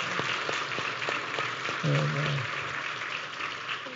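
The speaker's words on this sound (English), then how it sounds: "Let's give her a nice round of applause." Church congregation applauding a teacher at a Sunday service, a soft, even wash of many hands clapping at moderate distance, with a brief spoken word near the middle.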